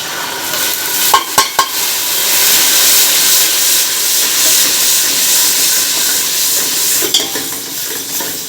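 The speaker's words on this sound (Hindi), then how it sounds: "देखिए प्याज हमारे ब्राउन हो गए। और हम इसमें लहसुन का पेस्ट डाल देंगे।" Garlic paste frying in a pan with browned onions, a loud continuous sizzle and steamy hiss close by, broken by a few sharp clinks of a spoon stirring near the start and end.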